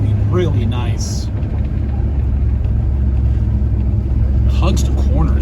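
A 1966 Pontiac GTO accelerates hard with a loud, deep engine roar that rises in pitch, shifting down partway through, while someone speaks briefly over the noise.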